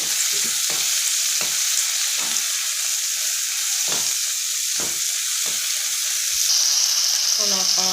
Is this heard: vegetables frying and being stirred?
yes